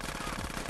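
Rapid gunfire in Grand Theft Auto: San Andreas, a quick rattling burst of repeated shots packed into under a second, loud and continuous.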